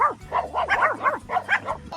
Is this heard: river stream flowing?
no